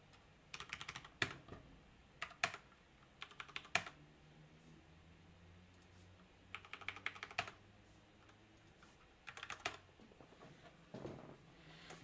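Clattery bursts of typing on a computer keyboard, several short quick runs of keystrokes separated by pauses, fairly faint and close, with no voices.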